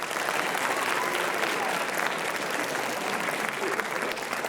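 A classroom audience of students and teachers applauds a student poet at a school writers expo. The clapping is steady and dense and lasts the whole time, with no talk over it.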